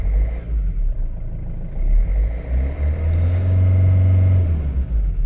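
A Nissan Primastar van's engine, which has a turbo boost fault, starts and settles into a steady low rumbling idle heard close by, with no voices.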